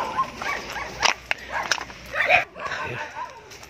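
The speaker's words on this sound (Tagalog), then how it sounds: "Dami yung aso." Dogs barking outside an old house, several short sharp yips and barks scattered among distant voices and background activity.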